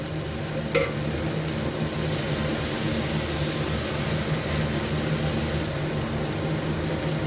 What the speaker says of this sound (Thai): เคี่ยวซะก่อนนะคะ ต้องเคี่ยวนะคะ